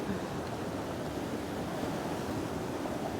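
Powerful, fast-flowing water of the Yellowstone River rushes in a steady, dense roar with some wind across the microphone, continuous and fairly close, with no voices.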